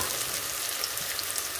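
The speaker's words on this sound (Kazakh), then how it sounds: "Қып-қызыл сарғыш болғанша жақсылап қуырамын." Onions fry in a pan with a continuous close sizzle and soft crackling, fairly quiet and steady, with light stirring and no talk.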